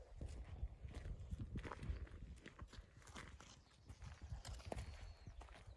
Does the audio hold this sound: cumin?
no